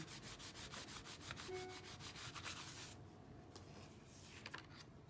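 Paint is rubbed off a gelli print card with dry, scratchy strokes. The rubbing is steady and close for about three seconds, then drops to a few quieter, intermittent strokes.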